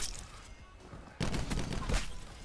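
Gunfire in the video game Black Ops 4, faint shots at first, then a loud close burst of several rapid cracks.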